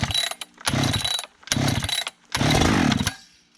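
A Husqvarna 395XP chainsaw is pull-started with several rasping cranking bursts separated by short pauses, each rougher and louder, the last one longest, heard up close.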